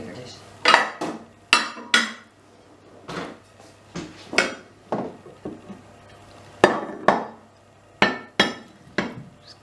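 A baking dish for cottage pie is handled in a kitchen, giving a series of sharp clattering knocks and clinks of crockery and utensils, irregular and close, with a soft voice briefly in the background.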